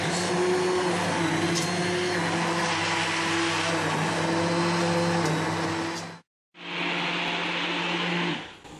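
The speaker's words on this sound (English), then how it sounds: "then we're going to blend" A loud, steady blender whir as butternut squash and sweet potato soup is blended, briefly cutting out for a moment before starting up again and running on.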